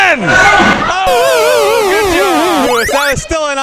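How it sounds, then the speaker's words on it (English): About fifty people crowd around a candlepin bowling lane, whooping, yelling and cheering a young bowler on. The voices are loud and close, with excited shouts rising and falling throughout. "We got the crowd, about 50 people up here, all cheering him on."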